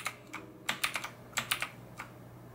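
Keys clack in short bursts on a budget full-size mechanical keyboard, a crisp, close, uneven run of taps with brief pauses between them.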